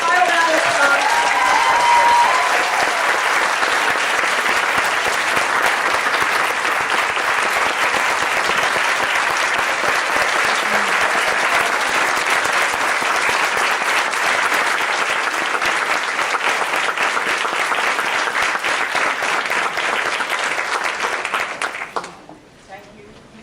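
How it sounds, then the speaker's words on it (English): A large audience at a university ESL program's 20th anniversary celebration gives a loud, sustained round of applause, thick continuous clapping lasting over twenty seconds before quickly fading out. "So, let's give a final round of applause."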